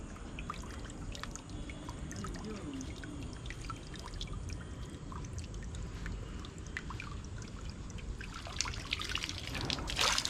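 Water trickles and pours steadily as something is rinsed outdoors on a trek up a hill near Thiruvannamalai, a continuous close splashing stream that grows louder and busier toward the end, with no talking.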